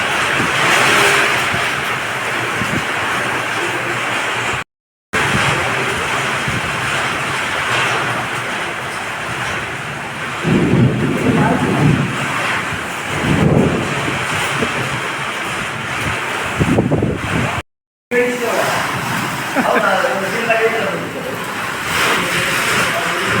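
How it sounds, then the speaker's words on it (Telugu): Steady, loud roar of heavy rain and gusting wind in a thunderstorm, with rumbling swells over the wash and a brief dropout twice. "ఈదురుగాలతో వర్షం ఎట్లా కొట్టుకుపోతుంది చూడండి"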